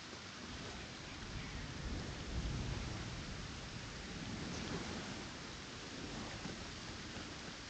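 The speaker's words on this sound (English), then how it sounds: "Seems to be raining a lot for some reason today." Steady heavy rain pours in LEGO Fortnite Odyssey, a dense hiss filling the whole scene, with a low rumble of thunder swelling in the middle before settling back into the downpour.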